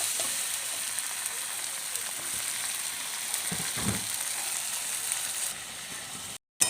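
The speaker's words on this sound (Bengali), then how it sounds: "সব মশলা দিয়ে দিয়েছি, এবার কষানোটা চলছে" Spices including chili powder being sautéed (kashano) in a hot pan, a steady close frying sizzle with a soft stirring scrape partway through, continuing without talk until a brief cut at the end.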